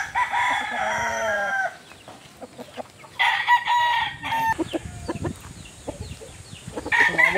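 Large game-farm rooster of the super gold line crowing loudly up close, a long drawn call at the start followed by clucks and further calls around a farmyard.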